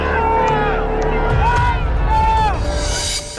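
Large crowd of devotees at Baba Bageshwar's divine court in Patna, a continuous loud babble of many voices with a steady low rumble throughout.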